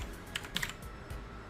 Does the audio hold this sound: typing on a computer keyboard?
yes